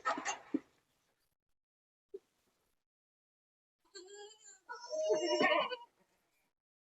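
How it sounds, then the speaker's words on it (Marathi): Sirohi and local-breed goats on a goat farm give a couple of bleats, one short faint call and then a louder, wavering bleat near the end, with a person speaking briefly at the start. "ही शिरोई जातीची शेळी आहे"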